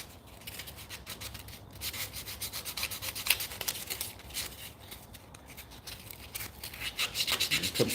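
Sandpaper rubbing the inside edge of a cherry wood spice jar to put a chamfer on it, a continuous close scratchy rasp in quick back-and-forth strokes.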